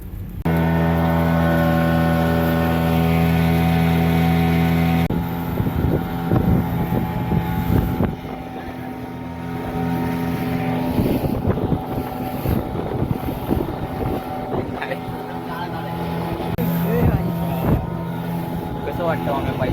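Motorboat ride on the Konkan coast, a loud steady engine drone close by with wind buffeting the microphone and water rushing, as several people talk over it throughout.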